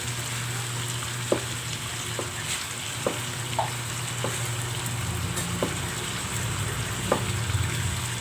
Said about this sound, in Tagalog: para mas mabango gawin lang natin guys maging brown yung ating chicken